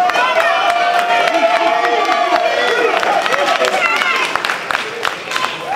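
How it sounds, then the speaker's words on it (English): Audience applause and cheering at a NABBA England 2019 classic bodybuilding contest: a dense, steady wash of clapping and whoops from a crowd, with voices mixed through it across the whole stretch. "give these guys a round of applause."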